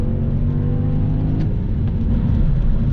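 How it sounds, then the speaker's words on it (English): Lexus SC430 V8 engine revving with a Quantum Auto ECU mod, a loud, steady, deep rumble that holds close and constant throughout with no speech. "it makes you remember that you have a V8 under here."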